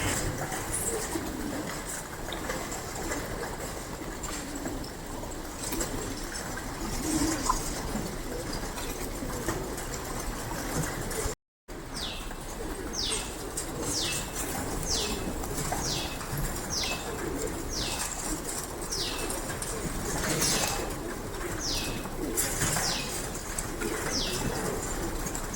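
Pigeons gather at a farmhouse in Ranpada village: soft cooing and chirps run through a steady outdoor background, and a rapid series of wing flaps bursts out in the second half, moderately close.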